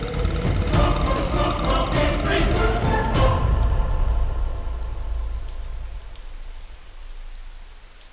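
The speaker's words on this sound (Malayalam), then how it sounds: "മഴ കനത്തുമല്ലേ?" Heavy rain falling in a steady, dense hiss that continues throughout. Tonal sounds overlap it for the first three seconds and then fade.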